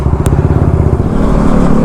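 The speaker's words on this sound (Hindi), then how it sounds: "अब इसकी लाउड बाइक की आवाज़ सुनो बस" A loud BS4 superbike engine runs steadily nearby, its deep pulsing exhaust throbbing continuously with a rhythmic low rumble and no talk over it.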